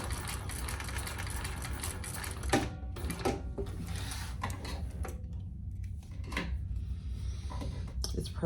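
A THOR 1341 sewing machine stitching, with a fast mechanical whir and ticking in bursts broken by brief pauses, close and fairly quiet.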